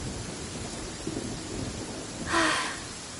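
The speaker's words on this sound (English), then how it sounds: "Let us find shelter from the rain." Rain and thunder in the game Genshin Impact: a steady hiss of heavy rain runs throughout, and a single rumble of thunder swells near the end, with no talk.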